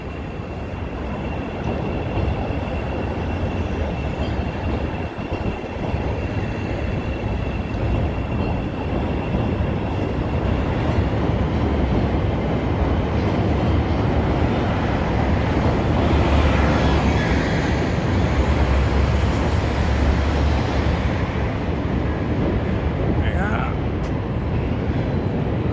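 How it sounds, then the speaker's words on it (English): A train rumbles past in downtown Chicago as a steady, loud, broadband roar that holds without a break, with faint street noise mixed in and no clear voices. "There's one more train coming, so let's get one more."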